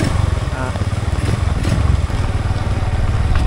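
Motorcycle engine and exhaust, a loud close rumbling idle with a fast pulsing throb and clattery mechanical texture, running steadily throughout.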